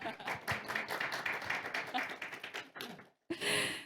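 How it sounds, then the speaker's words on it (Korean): Audience at a Korean math teachers' award gathering claps in a dense, close burst for about three seconds, breaking off abruptly before a voice begins speaking. "박수와 함께 시작해 보겠습니다"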